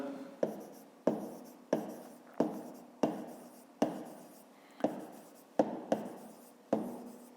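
A pen writes on paper during a fifth-grade maths exercise on a parallelepiped, producing about a dozen crisp scratchy strokes in a steady rhythm, close and clear with no other sound.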